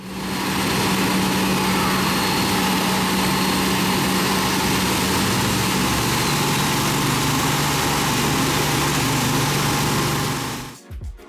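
A JSX private jet pulls in close to the hangar, its engine roar loud and sustained with a steady whine and shifting low drone, then cutting off abruptly at the end.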